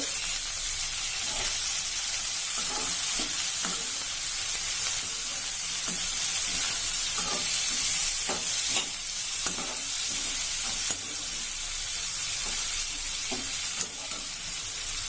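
Tomatoes frying in a pan for potato and pea masala, a loud continuous sizzle and hiss with repeated stirring scrapes and clacks of a spoon throughout.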